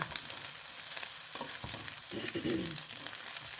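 Loose, dry rice is stir-fried in a pan: a steady sizzle with scraping stirs and spatula clinks, close and moderately loud, without talk.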